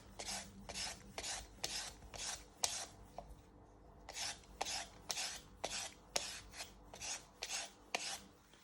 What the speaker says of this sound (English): So you want to peel it up and down.